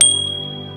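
A single short notification bell ding rings out clearly, then decays quickly within a second with a lingering metallic tone.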